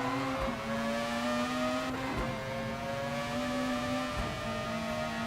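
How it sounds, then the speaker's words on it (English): A Mazda race car engine in the video game GT Sport holds a high, steady whining drone with layered harmonics, constant and fairly loud throughout with faint bumps of tire or gear noise. "That Mazda sounds like an absolute Formula One car."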